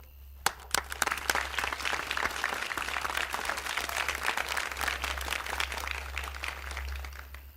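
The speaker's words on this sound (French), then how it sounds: "Moi, on m'applaudit." An audience claps steadily throughout, a dense continuous round of applause over a low background hum, with a few sharp separate claps at the start.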